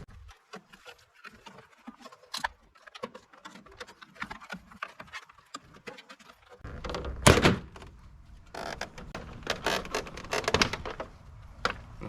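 Plastic grille trim pieces held by clips on a Chevrolet Silverado 2500 are pried loose, giving scattered light clicks and taps, then a louder thunk, followed by denser rattling and snapping.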